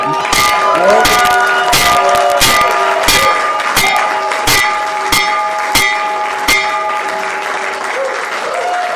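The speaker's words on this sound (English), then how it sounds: "So ring the bell, Mr. President." Opening bell rung at the stock market, loud repeated metallic clangs ringing out in a steady series over continuous crowd applause and cheering, with voices mixed into the noise.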